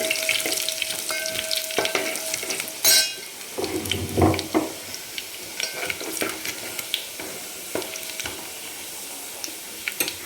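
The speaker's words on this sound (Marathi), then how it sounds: "ते टाकून घेतो आणि चांगलं सोनेरी कलरवर परतून घ्यायचं" Coarsely crushed garlic frying in oil until golden, a close steady sizzle broken by clattering stirs and scrapes of a spatula against the pan.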